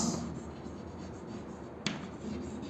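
Chalk or marker scratching across a classroom board, a faint steady rubbing scrawl with one brief tap partway through, no voices.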